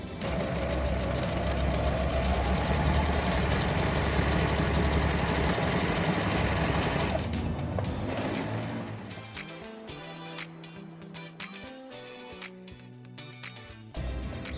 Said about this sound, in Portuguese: Quando a máquina estiver fazendo a costura, ele tem que seguir rente a essa lateralzinha aqui